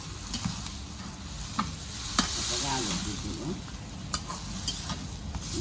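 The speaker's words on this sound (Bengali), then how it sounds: "মাছের মাথাটা দিয়ে খুব ভালো করে কষিয়ে নিতে হবে" A fish head fries and is stirred in a pan over a clay stove while cooking with earth yams, giving a constant close sizzle broken by several sharp scrapes and clinks of the spatula.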